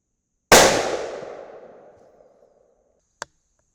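A single loud rifle shot fired through a Silencerco flash hider, a sharp crack with a long decaying rumble, followed about three seconds later by a short, faint metallic click.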